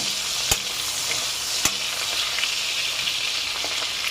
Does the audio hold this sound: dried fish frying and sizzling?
yes